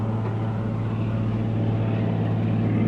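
A float plane's propeller engine drones steadily near an open bay, a loud continuous low hum with a constant pitch that holds unchanged for about three seconds, with no voices.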